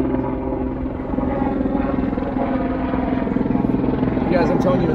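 A firefighting helicopter flies over the Radford wildfire near Snow Summit at Big Bear Lake, California, its steady rotor chop and engine drone continuous and fairly close, with a person talking over it.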